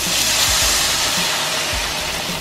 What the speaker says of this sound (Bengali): এবার আমি জল ঢালছি।